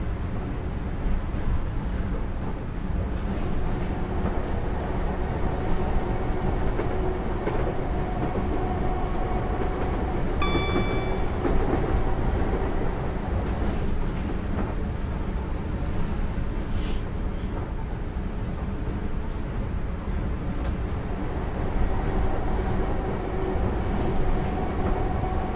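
A Class 442 Gatwick Express electric train runs from London to Brighton in Train Simulator 2016, heard from the passenger cabin as a steady, continuous rumble with faint, brief chimes or clicks partway through.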